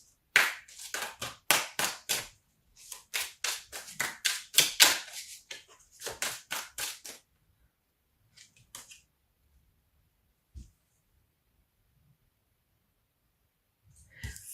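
Tarot cards are shuffled fast in quick bursts of sharp riffling slaps. A dense flurry comes first, then a few sparser flicks, and the sound trails off into near silence with one isolated tap.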